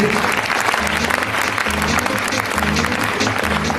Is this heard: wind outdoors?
no